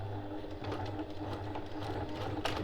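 Up close, a sewing machine top stitches a boxed zipper pouch with a steady, busy mechanical hum that swells slightly toward the end.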